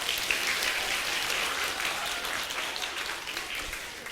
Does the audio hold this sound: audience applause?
yes